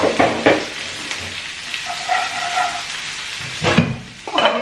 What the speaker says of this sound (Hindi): अब मैं इसमें डाल दूँगी मटर।